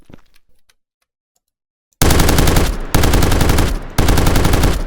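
Rapid, loud bursts of machine-gun fire from a video game, where the weapons can be mounted to surfaces. The fire erupts after two seconds of near silence and runs dense and sustained, with two brief breaks between long volleys.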